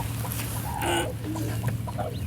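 A hen clucking among newly hatched chicks on a farm, several short clucks and soft calls over a constant low hum, fairly close, with no speech.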